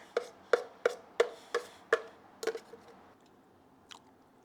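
Close crunchy chewing on a mouthful of homemade five-ingredient high-protein queso, about six sharp, evenly spaced bites that soften and trail off into quieter chews, with no talking.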